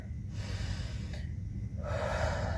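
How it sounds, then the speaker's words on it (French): A deep breath during a home balance and exercise session: a long audible inhale followed by an exhale, close to the microphone and over a steady low background hum. "On prend une grande respiration."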